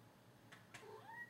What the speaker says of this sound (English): That was my cat Piper.